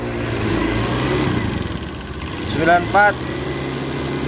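A Honda Beat fuel-injected motorcycle engine idles steadily, with its revving under a voice that speaks briefly partway through, close and moderately loud throughout.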